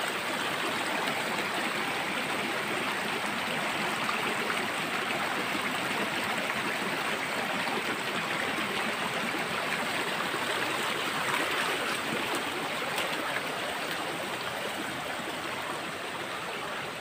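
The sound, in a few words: stream of flowing water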